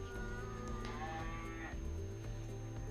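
Cattle low loudly and close at a 4-H beef show, a long sustained moo that rises and then drops, with ring noise behind and no talk.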